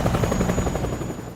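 A helicopter flies away, its rotor thumping in a fast, throbbing pulse over a high engine whine, loud at first and gradually fading.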